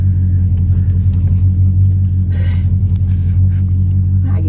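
A Dodge Charger 392 Scat Pack gives off a deep, continuous engine rumble, loud and close, with a steady low drone and slight throttle swells while riding. No one speaks over it.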